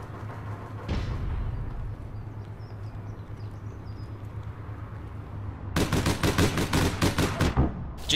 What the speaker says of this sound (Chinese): 是机枪。